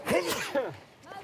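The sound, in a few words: sneeze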